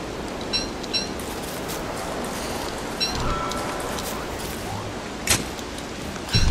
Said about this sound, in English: dumb rain.